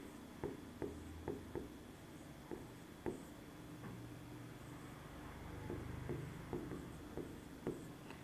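A pen writes out a maths solution on paper, giving a steady run of short, close taps and strokes in an irregular rhythm over faint room hiss.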